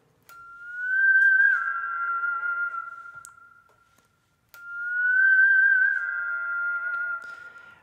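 Pedal steel guitar harmonics with heavy vibrato, two sustained pure tones each swelling in over about three seconds, wavering and fading, separated by a short silence, clean and close with nothing else around.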